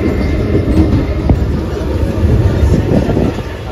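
A slow suburban local train at Thane railway station, Mumbai, bound for Kalyan, gives off a steady, loud rumble with a faint rhythmic clatter that runs continuously from start to end.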